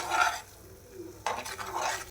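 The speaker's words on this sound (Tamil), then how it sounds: "இது வந்து நல்லா மிக்ஸ் பண்ணிவிட்டு இது நல்லா சுண்டுச்சுன்னா நம்மளோட அல்வா ரெடி ஆகிடும்" Red banana halwa is stirred in a pan in two short bursts of scraping and sloshing, separated by a quieter pause, soft and close with no voices.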